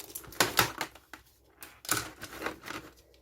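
Clicky buttons on a Famicom clone controller, an FC Home 88 made for the Japanese market: a few close, crisp clicks and clacks in two loose clusters with quiet gaps between, no talking.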